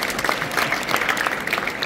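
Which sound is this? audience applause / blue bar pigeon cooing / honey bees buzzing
audience applause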